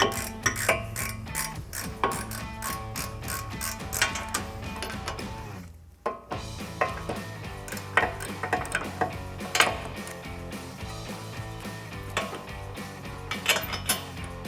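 Bolts are threaded into a 2015-2025 Ford Mustang rear wheel bearing with a socket on an extension, producing a long run of close, rhythmic metallic ticks and clicks with a short pause partway through.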